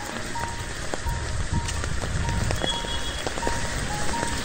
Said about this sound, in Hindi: ऐसी बारिश हो रही है पानी पानी